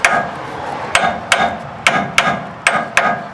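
Sharp metallic hammer blows drive a bearing into place, striking repeatedly at an uneven pace, seven hits close by, each ringing briefly.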